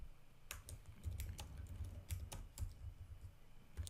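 Quick, light clicking of keys on a computer keyboard as a terminal command is typed, an irregular patter of soft taps close by and quiet, with no voices.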